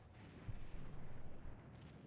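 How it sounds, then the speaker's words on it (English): Avalanche in a snowy mountain video game: a low, muffled rumble rolls on steadily for about two seconds, fairly faint and with no voices. "I'm stuck in an avalanche!"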